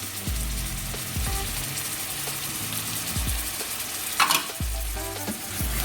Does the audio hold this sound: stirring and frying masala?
yes